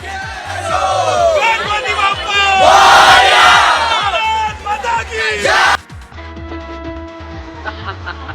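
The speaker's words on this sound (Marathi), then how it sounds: "प्लेन पण येत असताना टीम इंडियानं कशा पद्धतीनं जल्लोष केलेला होता" Team India cricket players cheer and whoop together aboard a plane, a loud burst of shouting and chanting that peaks and then drops to quieter cabin sound.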